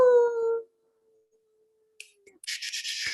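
A voice imitates a wolf howl: a long, steady wavering tone that fades into near silence, followed by a burst of noisy cheering and shuffling.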